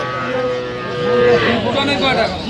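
A cow with her calf moos at a busy cattle market, a drawn-out rising low call close by, with crowd voices and market chatter underneath.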